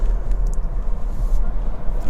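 Ford Puma EcoBoost Hybrid engine on the move gives a steady, low rumbling drone inside the cabin, constant throughout with slight fluctuations and no clear speech.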